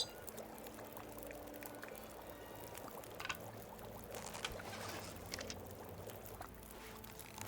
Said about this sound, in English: Let's drink that reishi.